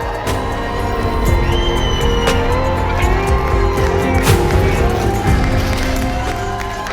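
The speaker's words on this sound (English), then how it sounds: "Put your hand together, whoop and cheer and welcome for the first time as husband and wife" Wedding guests cheer, whoop and clap for the newlyweds at a reception hall, a loud, busy crowd roar with scattered shouts and applause sustained throughout.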